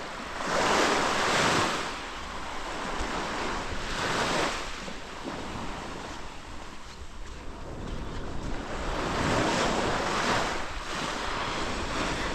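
Waves roll in at Cat Co Beach on Cat Ba Island in slow, broad surges, and a steady wash of surf and wind noise fills the gaps between them. No voices are heard.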